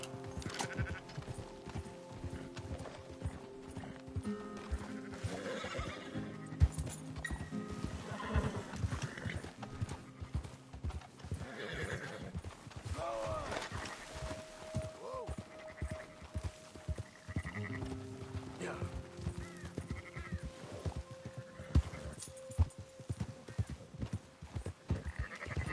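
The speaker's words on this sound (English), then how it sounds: "That horse don't listen." A horse in a video game clip-clops along with repeated hoofbeats and lets out a neigh, set against a busy, layered game soundtrack with tonal music and effects running underneath.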